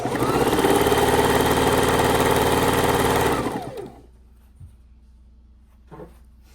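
A sewing machine stitches fabric strips for a quilt, running in a loud, steady mechanical whir for about three and a half seconds before winding down and stopping, followed by quiet with a couple of faint clicks.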